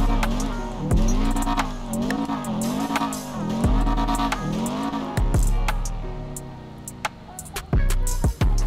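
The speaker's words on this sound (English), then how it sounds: "Fat backfire for the fat exhaust" A Subaru WRX STI with a Stage 2 Hycade kit and big exhaust in GTA V, engine revving up and down with sharp backfire pops and crackles between pulls, loud and close throughout.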